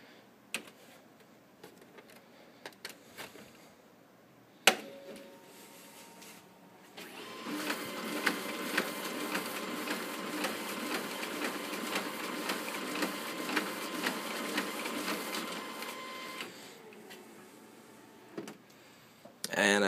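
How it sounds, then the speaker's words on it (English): A Canon imageFORMULA DR9080C high-speed color scanner feeds a batch of sheets, giving a steady whirring, clattering mechanical run of about nine seconds between quieter stretches with a few isolated clicks and handling knocks. "we're just going to scan some sheets through it to make sure it functions properly"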